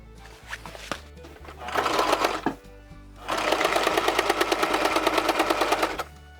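A sewing machine stitches a seam on fabric for an outboard gas tank cover. Two runs of rapid, even mechanical chatter are heard close up, one short and one longer, with brief quiet between them.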